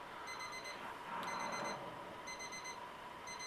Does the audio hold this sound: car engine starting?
no